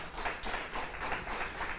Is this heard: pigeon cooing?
no